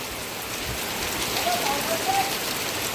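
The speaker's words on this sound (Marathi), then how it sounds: "पाऊस आलेला आहे." The first monsoon rain of the year falls steadily in a Konkan village, a dense, even hiss of drops on surfaces with faint birdlike chirps briefly rising above it.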